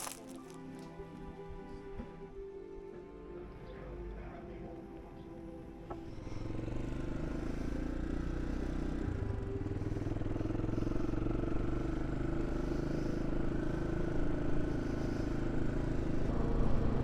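A motorcycle engine rumbles steadily while riding around the harbours of Norfolk, growing louder and rougher partway through as the bike rides on, with some rattling and clatter early on.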